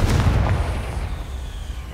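Confringo blasting spell in Hogwarts Legacy, a single close, loud booming blast that rumbles and fades over about two seconds with no voices.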